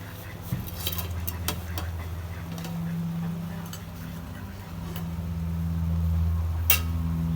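Noodles tossed and stirred in a pan while chowmein cooks with ginger, giving a steady clatter of utensil against metal over a low hum, with scattered clinks and a soft sizzle close by.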